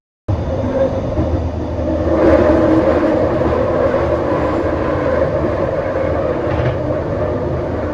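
A Scarborough RT rapid transit train rumbles past loudly and steadily, its rolling roar and rattle filling the clip from a sudden start.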